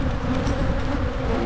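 Bees at an open hive in January make a loud, continuous close buzzing drone with no voices over it.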